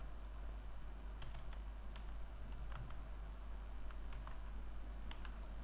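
Keystrokes on a computer keyboard while writing code in a text editor, scattered quiet taps in short bursts over a steady low background hum, with no voices.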